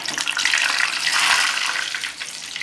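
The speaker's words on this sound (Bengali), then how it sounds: "এক পিঠ হয়ে গেছে, আমি আরেক পিঠ ভেজে নিচ্ছি ভালো করে।" Eggplant fritters (beguni) frying in hot oil, a steady dense sizzle and crackle that stays loud and close throughout, with no one talking.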